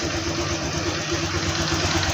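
A Honda Click 125i scooter engine idles up close, giving a steady, buzzing hum with a faint rattly vibration and no change in revs.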